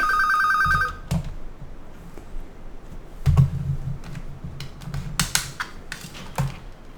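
A phone rings during a recording with a repeating electronic ring for about a second. Scattered computer keyboard typing and clicks follow.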